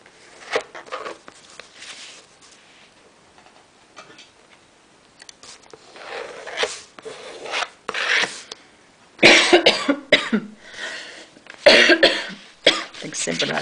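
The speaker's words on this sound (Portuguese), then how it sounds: "Tenho sempre a dar da tosse." A person coughs a few times, in short, sharp, fairly close bursts between quieter paper-handling sounds and speech while folding paper for a craft project.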